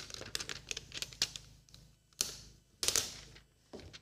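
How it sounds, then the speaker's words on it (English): Squeegee pressed and rubbed over vinyl on a bin, giving a series of scraping, clicking strokes with sharper louder swipes near the end, close up and with no talk. "Now we'll just take our squeegee and burnish so that the vinyl adheres well to this bin"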